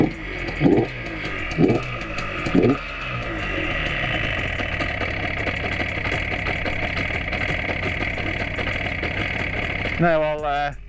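A cold 1976 Yamaha RD400 motorcycle engine idles steadily after a kick start, a constant close mechanical drone that follows a few sharp thumps at the start and carries on under a brief burst of rising revs near the end.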